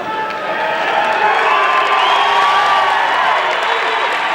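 A large audience cheering and whooping at the 1992 Arnold Classic bodybuilding contest, a loud, sustained wash of crowd noise with scattered shouts and some applause throughout.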